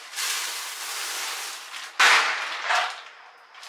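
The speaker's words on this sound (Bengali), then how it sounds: "এই দেখো আমাদের এখানে বাজি ফাটানো স্টার্ট হয়ে গেছে" Diwali firecrackers bursting outdoors, a couple of sharp loud bangs with a crackling hiss and fading echo, set against a steady background of distant celebration noise.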